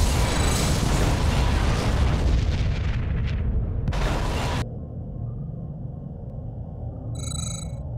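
A Borg vessel blows up in a Star Trek: Legacy space battle. A loud, rumbling explosion roars for several seconds, cuts off sharply, and leaves a quieter hum with a brief electronic chime.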